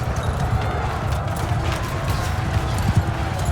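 Horse hooves pound in a rapid galloping rhythm during a battle in the video game Mount & Blade II Bannerlord, a steady low thudding under a busy background.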